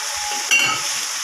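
Ash gourd and chana dal sizzle steadily in a frying pan, a constant bright hiss with a brief louder stir about halfway through.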